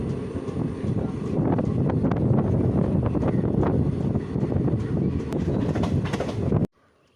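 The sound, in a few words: train entering platform 1 at Ottapalam railway station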